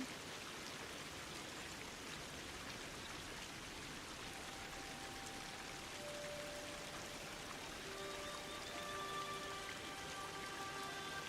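Steady, even rain patters and hisses throughout in the video game Disney Dreamlight Valley, with faint thin tones appearing in the background later on.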